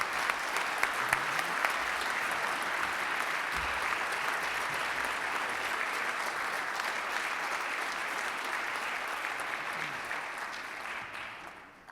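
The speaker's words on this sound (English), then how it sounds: "a round of applause for all of our finalists" Sustained, steady applause from an audience at a Rotary club awards meeting honoring Jefferson Award finalists, loud and even for about twelve seconds before tapering off at the end, with no talking over it.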